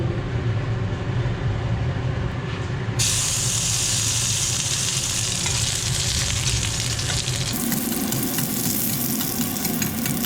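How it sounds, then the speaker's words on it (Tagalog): Shallots fry in a hot pan with a loud, dense, continuous sizzle and hiss, close by and steady throughout, with stirring and no voices. "unahin ko lang iprito yung shallots"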